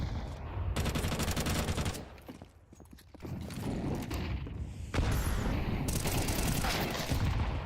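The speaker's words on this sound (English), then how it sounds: "Time for PG Turao to show what they're made of as they get the rifles going" Rifle gunfire in a competitive tactical shooter esports match, rapid bursts and single shots crackling amid busy game sounds, with little or no talk.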